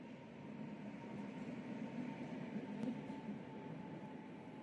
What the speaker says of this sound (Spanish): Miren cómo pasa el tranvía.